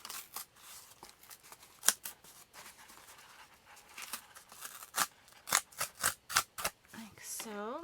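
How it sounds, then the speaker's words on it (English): Paper being torn by hand to shape a handmade bee journal cover, with soft rustles building to a series of sharp, close rips near the end; a voice speaks over parts of it. "so let's rip it down about here"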